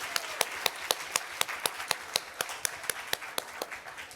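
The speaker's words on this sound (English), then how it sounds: "Let's give her an extra round of applause." A small audience claps for a speaker at a literacy symposium, sparse, evenly spaced claps sounding like only a few hands, close and clear over a quiet room.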